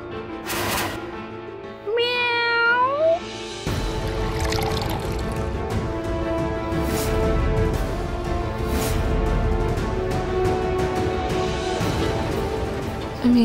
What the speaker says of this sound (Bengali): হয়তো বাইরে কোনো বিড়াল ক্ষুধার্ত।